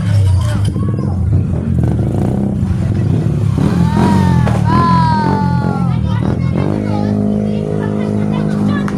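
A motorcycle engine revs and passes close by on a street, its rising and falling whine cutting through a lively crowd of chattering voices and shouts.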